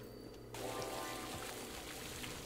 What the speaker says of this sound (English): let's get the water flowing